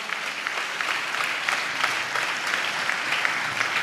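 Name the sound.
audience applause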